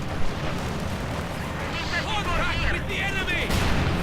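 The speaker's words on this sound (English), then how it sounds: "Direct hit from the mortar though on the top of the T-34." In a World War II strategy game, a mortar shell lands directly on top of a T-34 tank, setting off a deep explosive boom and rumbling battle noise with scattered gunfire. A voice comments over the action.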